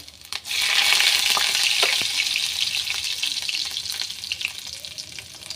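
Chopped ginger and garlic hit hot oil in a pan for dhaba-style tadka dal, bursting into a loud, continuous sizzle that settles into a steady fry with a few sharp pops.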